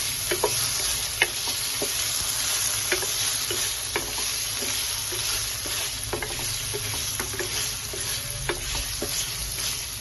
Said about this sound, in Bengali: পনিরের মধ্যে একটু লবণ দিয়ে দেবো, অল্প দেবো, বেশি দেবো না, দিয়ে ভালোভাবে ভেজে নেবো।